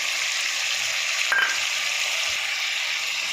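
Tomato, turmeric and chili powder fry in a pan with a loud, steady sizzling hiss, close up and unbroken, with a brief utensil clink partway through.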